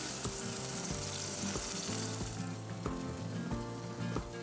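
Bacon fries on a hot cafe grill, a dense close sizzle and crackle that stays loud and steady throughout with no voices over it.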